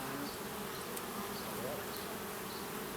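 Honey bees buzz in a dense, continuous drone around an open hive during an inspection, steady and close throughout.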